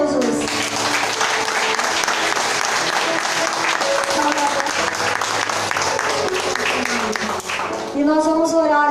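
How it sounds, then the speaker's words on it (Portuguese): A church congregation applauds loudly, dense sustained clapping filling the room for several seconds before it thins out and a voice begins speaking near the end. "Vamos aplaudir Jesus."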